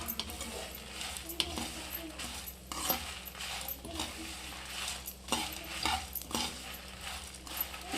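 A spoon stirs a spoonful of poppy seeds into roasted spices in a pan after the stove is switched off, for a wedding-style vegetable sambar. Repeated scraping and clinking strokes come in a steady rhythm, close and fairly quiet.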